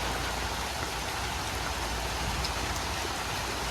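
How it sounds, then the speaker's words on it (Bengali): Steady rain falls in a Bangladeshi village, a close, continuous hiss of drops on surfaces at an even level throughout, with no voices. "যেহেতু বৃষ্টি আছে ঠান্ডা ঠান্ডা"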